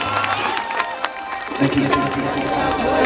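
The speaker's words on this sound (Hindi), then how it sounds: "अखिलेश जी को एक ताली बजा के अपना आशीर्वाद और प्यार दीजिए" Audience at a stage event gives a burst of crowd noise and scattered clapping, cheers rising near the end, with a loud voice over the top.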